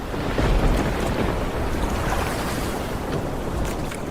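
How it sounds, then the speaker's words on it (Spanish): Ocean waves building around a sardine fishing boat as the weather turns, a steady broadband wash of water and wind, loud and continuous. "Las olas están creciendo."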